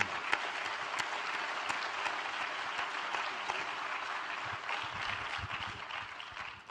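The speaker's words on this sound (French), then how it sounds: "On l'applaudit." Steady applause from a conference audience, many hands clapping continuously at a moderate distance.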